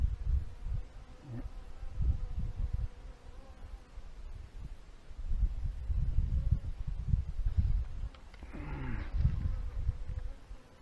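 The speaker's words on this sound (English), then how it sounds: "There's loads of insects buzzing around." Insects buzz continuously beside a river on a summer day, a faint steady drone beneath low rumbling wind and handling noise, with a brief closer whine passing near the end.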